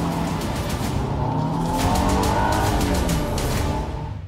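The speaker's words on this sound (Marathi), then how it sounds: "इंदिरा स्पीड कमी कर गाडीचा." A car roars along at speed, its engine loud and sustained, with a brief tire squeal partway through; no voices.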